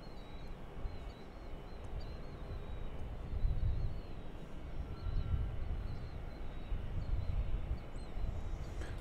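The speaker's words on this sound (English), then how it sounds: "But it is American Flight 1296 from Indianapolis." An American Airlines passenger jet, a flight from Indianapolis, heard at a distance near DFW Airport as a low, steady engine rumble that swells slightly, with faint birdsong above it.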